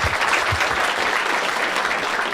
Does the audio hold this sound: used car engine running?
no